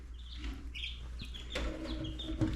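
Chicks in a brooder with a heat plate cluck and peep softly, with scattered short calls over a steady low hum.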